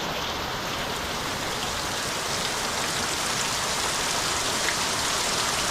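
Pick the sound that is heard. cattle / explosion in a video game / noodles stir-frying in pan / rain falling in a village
rain falling in a village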